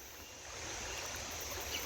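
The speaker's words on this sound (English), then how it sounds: "we're gonna have to cross the creek." Creek water flowing in a steady, close, broadband rush that swells slightly after the first half second, with no voices.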